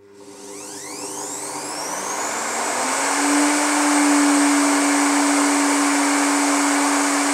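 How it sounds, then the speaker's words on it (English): An Evolution mitre saw motor spins up and runs loud and close, its whine rising in pitch over the first few seconds and then holding a steady, sustained drone. "I'm just going to show you how loud my Evolution miter saw is"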